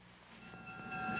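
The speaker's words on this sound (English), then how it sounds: "here comes your train" A train pulling into a railroad station, its long whistle-like tones rising over rolling rail noise as it draws nearer and grows louder.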